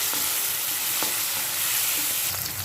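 Tomatoes frying in a pan for a cabbage and moong dal curry, giving a loud, dense, close sizzle that hisses steadily throughout, with a few faint taps of a spoon.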